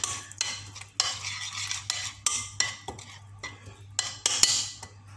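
Fish tagine ingredients with chopped parsley, coriander and garlic being mixed in a bowl, a run of uneven scraping and clinking utensil strokes, close with a low hum beneath and no talk.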